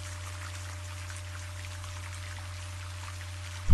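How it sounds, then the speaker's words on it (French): Heavy rain pours down in a steady, unbroken wash of hiss and patter that holds at an even level throughout, with no voices. "Vos pieds vous portent d'un pas à l'autre sous cette pluie diluvienne."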